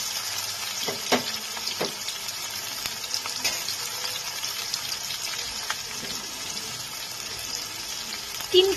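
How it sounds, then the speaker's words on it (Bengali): Chopped onions fry in hot oil over a cumin and bay leaf tempering, giving a steady, fairly quiet sizzle broken by a few sharp crackles and stirring clicks. "পেঁয়াজটাকে একটু হালকা ভাজা ভাজা করে নেব।"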